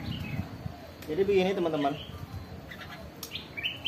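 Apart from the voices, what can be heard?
birds calling: doves, turtle doves, starlings, bulbuls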